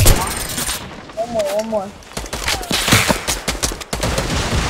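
Gunfire in Fortnite Battle Royale gameplay, rapid bursts of shots, fairly loud, mixed with game sounds while players talk over it.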